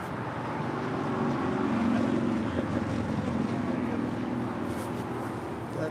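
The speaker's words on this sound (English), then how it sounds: "Next departure is American Airlines Flight 1270, heading to Phoenix, Arizona. That's 737-800." An American Airlines Boeing 737-800 departs LAX on runway 25 right, bound for Phoenix: a steady, broad jet roar that swells slightly and holds at a distance, with wind noise over the microphone.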